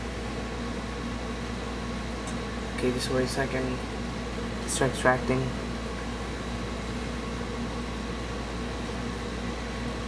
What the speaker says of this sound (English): Sorry about the noise. It's coming from the AC.